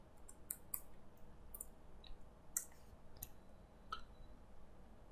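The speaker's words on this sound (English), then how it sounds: "So I'm double clicking it to calculate the corresponding probabilities." Mouse clicks on a computer while working in an Excel spreadsheet: a series of quick, sharp, close clicks, some paired as double-clicks, spread over a quiet background with no talking.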